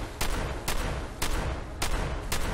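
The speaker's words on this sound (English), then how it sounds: "just keep shooting" Repeated shotgun blasts from the Fallout 4 video game, five loud booming shots at roughly half-second intervals, each followed by a sustained rumble, with no talking.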